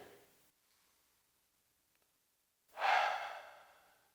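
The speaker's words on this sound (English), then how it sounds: "Breathing in, I breathe for me." A deep in-breath during a guided breathing exercise at a conference, heard after a faint earlier breath and a quiet pause, close and airy and lasting over a second, with no talk.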